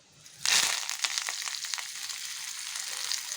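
Drumstick leaves drop into hot oil with a sudden loud burst of crackling sizzle, which settles into a steady, dense frying hiss close by, with no voices.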